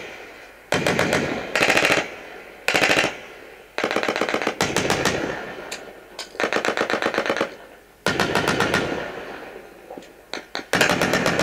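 Machine gun fire from real combat, recorded on a helmet-style action camera, comes in repeated loud, sharp bursts of rapid shots, some short and some sustained, separated by brief pauses.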